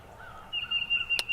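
Several wild birds call faintly in the distance on a Kentucky morning during youth turkey season, with a thin sustained high whistle-like note and one brief sharp chirp near the end, heard alone with no talking.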